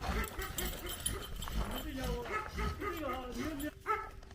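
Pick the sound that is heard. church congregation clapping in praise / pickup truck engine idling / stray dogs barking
stray dogs barking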